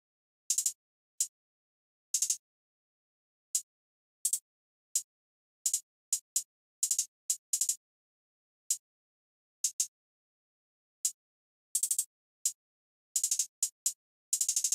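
Sizzle hi-hat sample from a stash drum kit plays a simple, loud, crisp pattern of bright hits and quick rolls, alone with silence between strikes.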